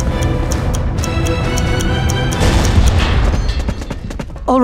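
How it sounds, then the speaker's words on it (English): A vault door blasted open in the PC shooter Mortyr 3 (2007): a dense, loud rumbling boom with crashing debris and metallic clatter, surging again midway before a brief electronic tone at the end. "Now quickly, blow open the vault."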